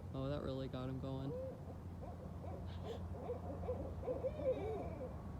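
Barred owls hoot in a lively group, their rhythmic calls close and clear at first, followed by softer scattered hoots and chatter in the background.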